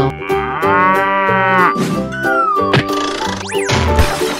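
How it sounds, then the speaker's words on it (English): A cow moos several times in a drawn-out, lowing call, loud and close over a steady musical backing, with a few sharp knocks and squeaky effects mixed in. "Cow."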